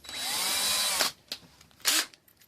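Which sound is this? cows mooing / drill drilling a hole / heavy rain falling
drill drilling a hole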